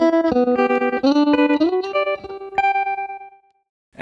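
Electric guitar played through a pulsing tremolo effect, chords and single notes throbbing rhythmically before ringing out and fading to silence.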